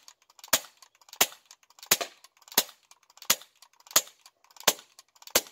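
A BB gun fires at a water bottle in eight sharp, evenly spaced cracks about two-thirds of a second apart, each followed by a brief faint rattle, close up against an otherwise quiet background.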